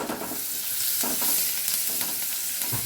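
Chopped onion fried in a pan and stirred, giving a loud, continuous sizzle with spatula scrapes cutting through it, heard up close with no talking.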